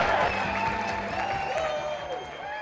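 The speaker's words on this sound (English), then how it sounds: "Get on your feet and clap until your hands hurt" An audience applauds a company CEO at a renewable energy business event, with steady clapping and some crowd noise under a tonal background.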